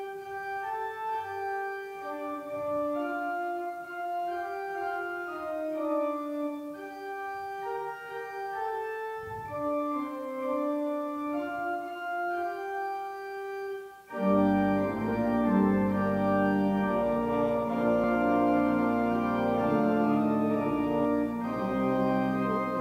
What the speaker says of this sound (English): Tune, Morning Star, text, brightest and best of the stars of the morning.